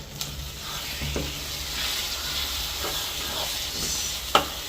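Fish roe being stirred constantly while it roasts in a pan over a low flame, a steady hissing sizzle with soft scrapes and one sharp tap near the end.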